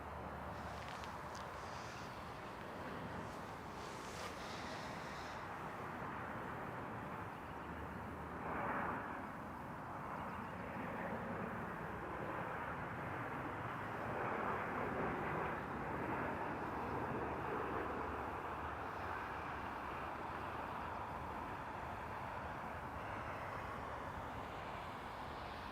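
An airliner takes off from runway 05 at Toronto Pearson airport, a loud, sustained jet-engine roar that rumbles on for about twenty-five seconds, swelling slightly midway as it climbs.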